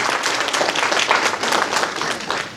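An audience claps steadily at a state-level award and felicitation ceremony, producing a dense, even wash of applause throughout.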